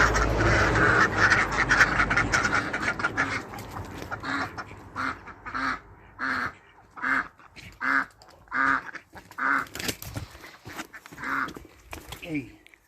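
Khaki Campbell and Cayuga ducks quack in a small backyard flock, first overlapping loudly, then settling into a steady series of separate close honking quacks, with some talking mixed in.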